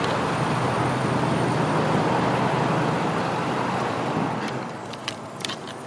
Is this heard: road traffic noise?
yes